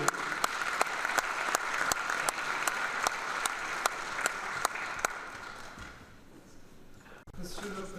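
Applause from an audience at a UNESCO celebration of African and Afro-descendant culture, a sustained, moderately distant clapping wash with sharp periodic knocks, fading out after about five seconds into quieter room noise.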